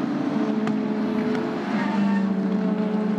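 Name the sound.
race car engine firing up and driving off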